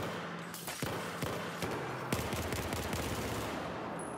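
Gunfire in a PS4 first-person shooter match: a string of sharp shots, some in quick bursts, cracking over a steady wash of game noise and ambience, moderately loud with no talk.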